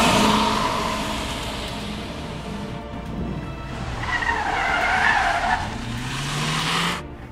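A 2013 Mazdaspeed3 with a 2.3-litre four-cylinder engine and six-speed manual accelerates hard with tyres squealing and skidding, its engine note rising loud and close throughout.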